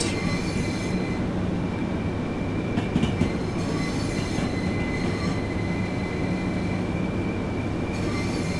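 Train in Train Sim World 5 pulling out of Brighton over the viaduct, a steady loud rumble of wheels and motor with faint squeals and clicks running throughout, no talk.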